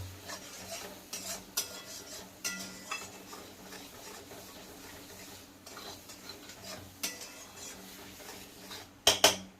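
Chicken masala fries in a pan while a utensil stirs and scrapes, giving soft sizzling broken by irregular metallic clinks and taps that end in a sharper clatter.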